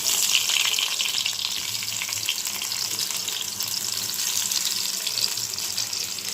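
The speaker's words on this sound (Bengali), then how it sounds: "মাছগুলো এখন একটু ভেজে নেবো" Salted fish fry in hot oil with a loud, dense, continuous sizzle that holds steady throughout, close up and without talk.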